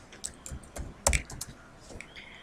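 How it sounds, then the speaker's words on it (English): Rapid clicks from a computer mouse and keyboard while working in an Excel spreadsheet, a short close cluster of sharp taps with one louder double click near the middle, no talking. "I'm going to click the cut button in the clipboard group on the home tab"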